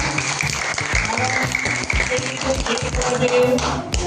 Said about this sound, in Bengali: জোরে হাততালি হোক আপনাদের জন্য।